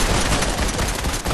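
Rapid gunfire in a battle-royale video game arena fight crackles loudly and continuously, dense overlapping shots with no clear gaps.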